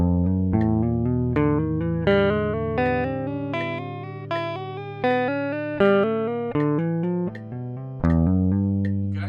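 Electric guitar finger exercise played with downstrokes and hammer-ons, a series of plucked notes in a regular pulse, each decaying before the next, clear and close with no talk.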